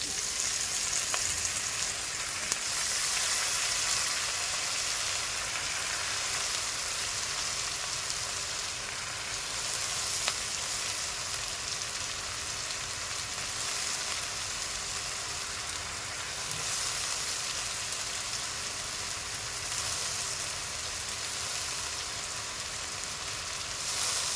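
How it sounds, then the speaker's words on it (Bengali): Capsicum and lentils fry in a pan with a steady, close sizzle that crackles without a break for over twenty seconds. "খুব ভালো ভেজে নেব 10 থেকে 15 মিনিট।"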